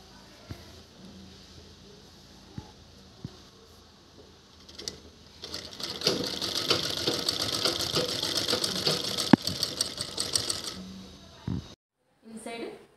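A sewing machine stitches a table cloth lined with a shopping bag. It starts after a quiet stretch with a voice, then runs steadily for about five seconds with a fast, even mechanical chatter before stopping abruptly.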